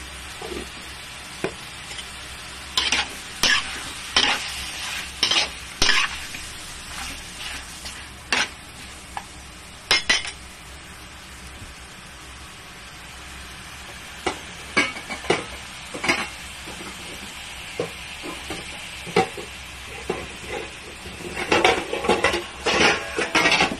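Chicken sizzles softly in a pan while a utensil stirs it, with frequent clinks and scrapes of metal against the cookware over a faint, steady fry. No one speaks.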